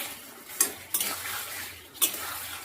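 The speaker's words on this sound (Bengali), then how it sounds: "ভালো করে কষিয়ে নিচ্ছি।" Tomato masala being sautéed and stirred in a pan for a fish curry, with a soft steady sizzle beneath a few sharp clinks of a spoon against the pan, close and moderately quiet.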